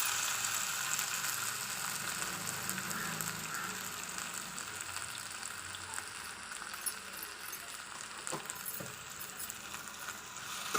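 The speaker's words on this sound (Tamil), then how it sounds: "மாங்காவை போட்டு ஒரு 2 நிமிஷம் நம்ம இதில் நல்லா எண்ணெயில் வதக்கிக்கலாம்" Chopped raw mango sautéing in hot oil with turmeric, a continuous soft sizzle and crackle with occasional clicks of a stirring utensil against the pan, close and quiet, no talking.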